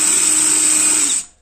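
Power drill with a freshly sharpened bit trying to bore, giving a loud, steady high whine for about a second before spinning down and stopping abruptly.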